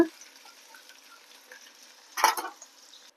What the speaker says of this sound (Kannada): ಈರುಳ್ಳಿ ಹಸಿಮೆಣ್ಸಿನ್ಕಾಯಿ ಎಲ್ಲ ಚೆನ್ನಾಗಿ ಫ್ರೈ ಆಗ್ತಾ ಇದೆಯಲ್ಲ